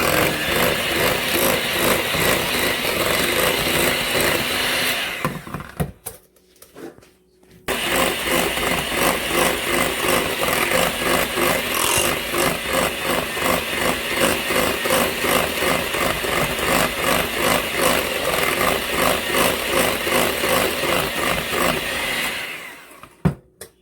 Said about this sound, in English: I'm gonna whisk this for a little bit.